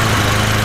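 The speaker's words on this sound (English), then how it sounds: "Now that sounds like a Briggs & Stratton engine." A Briggs & Stratton lawnmower engine running steadily, a loud, close, even low drone with a rapid regular pulse, heard alone in a brief burst.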